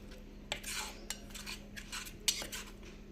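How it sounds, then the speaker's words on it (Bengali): Cornflour, tamarind and sambar masala being whisked with water in a bowl for a fish curry, heard as a rapid run of light metallic clinks and scrapes with a few sharper taps, close and fairly quiet, with no talking. "জল দিয়ে ভালো করে ফেটিয়ে নেব এটাকে"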